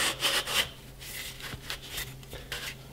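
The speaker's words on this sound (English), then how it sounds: "So these will slide on nicely." Brooks Plump leather grips being pushed onto Brompton bicycle handlebars, giving a few short, close scraping rubs in an uneven rhythm.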